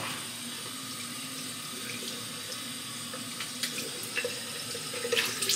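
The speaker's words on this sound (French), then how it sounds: "On va mettre de l'eau." Tap water pours steadily and continuously into a sink at close range, a constant rushing hiss throughout with a few faint clinks near the end.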